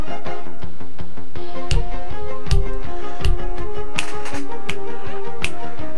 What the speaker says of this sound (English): check out the exciting, amazing soundtrack that this thing rocks.